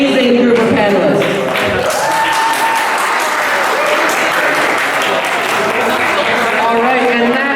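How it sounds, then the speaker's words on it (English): An audience applauds a panel of speakers in a loud, continuous wash of clapping, while a voice talks over it throughout. "please give a round of applause for this amazing group of panelists"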